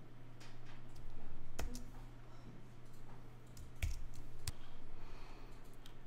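Mouse clicks from a computer running Adobe Photoshop as a clip is split with the scissors tool: a few sharp, close clicks spaced across several seconds over a steady low hum.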